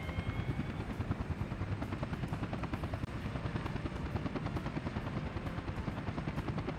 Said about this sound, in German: Ein Hubschrauber hier.